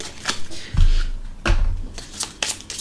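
Petit Lenormand fortune-telling cards being handled and shuffled, close, crisp flicking and slapping sounds with a few soft thumps, in a short irregular sequence.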